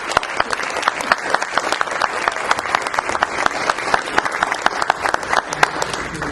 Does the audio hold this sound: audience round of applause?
yes